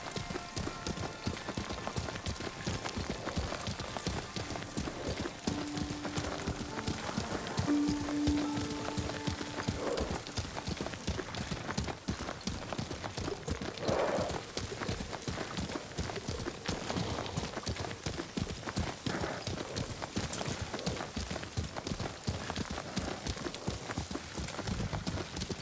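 Steady clip-clop of horse hooves trotting in the video game Ghost of Tsushima, rhythmic and close, with faint background ambience and no talking.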